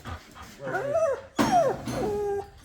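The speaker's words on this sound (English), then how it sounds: "why is this dog so sad?" A dog whimpers and yips in high, wavering cries, with two clear bursts separated by a short pause, close and fairly loud against a quiet background.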